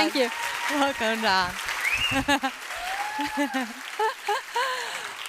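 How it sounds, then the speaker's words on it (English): An audience applauds after a startup pitch at a women's investment summit, with steady clapping running under a host who speaks over it. "Give her a round of applause."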